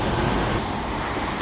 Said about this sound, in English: getting honked at by some idiot because I'm a foreigner